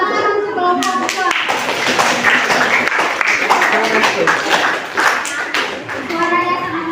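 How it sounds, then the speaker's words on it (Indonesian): A classroom of children claps for a group, with brisk, loud, fairly rhythmic clapping, children's voices talking and calling out over and around it, and speech at the start and end. "Tepuk tangan untuk kelompok 2."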